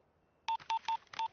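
Four short, loud telephone keypad tones sound in quick succession from close by after a brief near-silence, in a comedy film scene.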